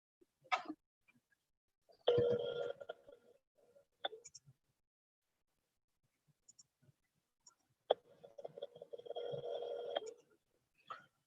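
A telephone call placed during a live deal-finding broadcast: brief dialing clicks, then two long ringback tones a few seconds apart, each followed by quiet.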